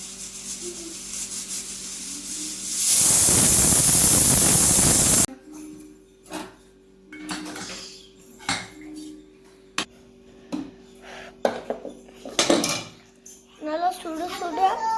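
A covered pot of chicken biryani gives a loud, steady steam hiss for a couple of seconds, then falls quiet apart from scattered clinks and scrapes of a utensil and lid.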